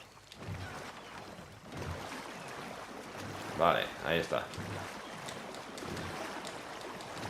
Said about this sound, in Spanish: Pulsa X cuando el remo esté entrando en el agua para remar más rápido.